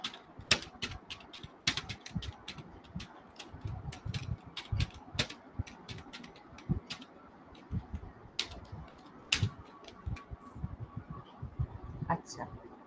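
Code is typed on a computer keyboard in bursts of crisp, close clicks and clacks, with a few louder key strikes and short pauses, while someone speaks at times underneath.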